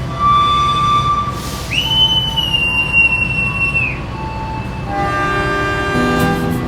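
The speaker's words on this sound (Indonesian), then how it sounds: "kereta api Sancaka Utara diberangkatkan dari stasiun Yogyakarta" The Sancaka Utara train departs Yogyakarta station at night, with a loud sustained whistle blast over the rumble of the railcars and steady tonal hums from the train running throughout.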